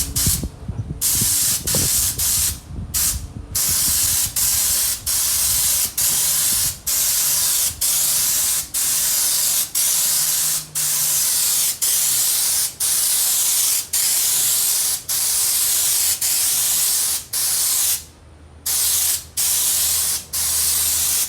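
Spray gun laying down a second coat of paint on a Toyota Tacoma Raptor, a loud continuous hiss in long bursts with brief pauses between passes, no talking.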